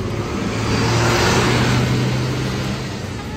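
A coach bus pulls into the new Demak bus terminal, a loud, close engine drone with low rumbling tones swelling and then easing slightly, alone without talk.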